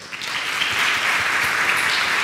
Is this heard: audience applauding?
yes